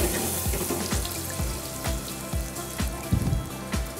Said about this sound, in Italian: Facciamo rosolare la cipolla